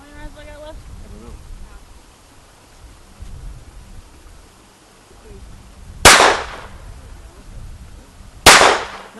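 Two sharp pistol shots from a Phoenix Arms HP 22 at a shooting range crack out a few seconds apart, loud and close, each with a short ringing tail, over low background noise and faint voices.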